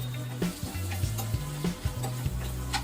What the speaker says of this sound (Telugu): కట్ చేసి పెట్టుకున్న చామదింపు ముక్కల్ని వేసి లైట్గా కలర్ మారే వరకు వేయించుకోవాలి